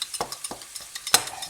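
Masala spices roasting in ghee for kaleji, with a rhythmic series of spoon strokes scraping the pan about every third of a second over a light sizzle, close by.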